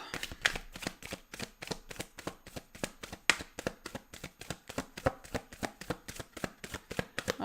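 Tarot cards being shuffled by hand, a close, rapid series of crisp riffling bursts in a steady rhythm with no talk.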